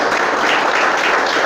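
Church congregation clapping in praise, a brief, loud, dense burst of many hands applauding together without a break.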